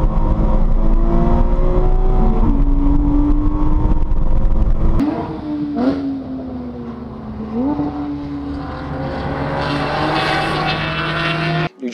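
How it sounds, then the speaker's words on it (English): A 2014 Porsche Cayman turning hot laps at New Jersey Motorsports Park, its engine loud and close as it rises through the revs, cuts out on gear changes and climbs again, with a steady drone that falls and returns. "to take a 2014 Porsche Cayman out on track,"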